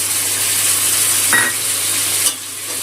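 Water from ground spice paste poured into dry, well-fried masala for a Bengali raw banana kofta curry, giving a steady close sizzle and hiss with a brief pouring surge and a stir near the end, no talk.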